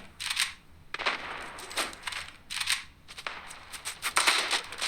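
Bursts of rapid gunfire in the video game Standoff 2 crackle in repeated volleys, sharp and somewhat distant, with short pauses between strings of shots.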